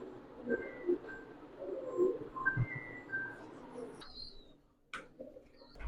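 Soft, repeated cooing of pigeons at a large pigeon farm, low and gentle, with a few faint chirps and rustles in a quiet space.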